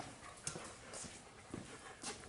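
A dog moves around nearby, with soft panting, snuffling and a few light paw or tag clinks over low background noise.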